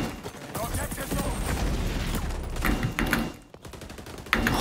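Rapid gunfire from a newly acquired weapon in the shooter video game XDefiant, dense bursts of shots running nearly continuously with brief gaps, close and loud.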